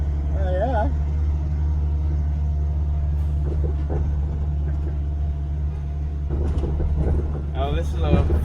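A 1948 Crosley car drives along with a constant low engine rumble and road noise inside the cabin, while people chat intermittently over it.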